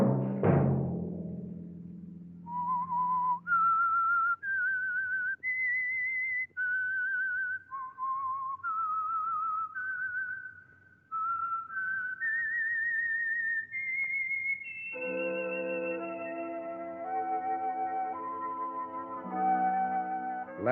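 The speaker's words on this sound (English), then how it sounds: "Let that whistle be your signal for the Signal Oil program, The Whistler." A whistled theme tune for The Whistler radio program, a lone melodic whistle rising and falling note by note, then joined by an orchestral chord at the end.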